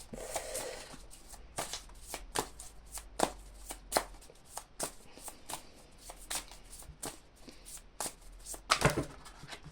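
Tarot cards being shuffled and drawn by hand: a steady run of soft, crisp riffling and slapping card sounds, close and fairly quiet, repeating irregularly throughout with no talking.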